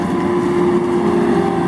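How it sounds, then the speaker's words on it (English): A passing tractor hums along the road in a brief, steady, fairly loud engine drone with a little wind noise. "we had a tractor go by. He's zipping as fast as he can."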